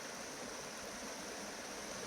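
Steady broadband rush of a creek running over rocks at Sailors Creek, Daylesford, near a sluice site, continuous and fairly quiet with no voices.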